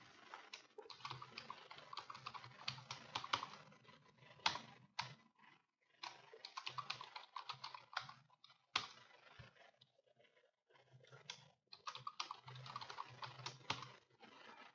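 Fingers type a password on a computer keyboard, quick bursts of clicky keystrokes separated by short pauses, close and fairly quiet, with no talking.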